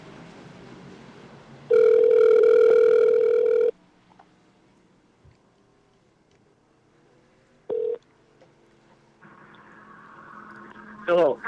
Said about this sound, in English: we're gonna be calling Shayna's phone